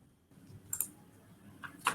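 A computer mouse clicks a few times, light and close against quiet room tone, with a sharp click near the start and another pair near the end.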